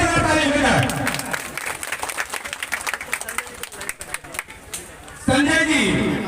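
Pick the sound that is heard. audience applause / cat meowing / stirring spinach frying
audience applause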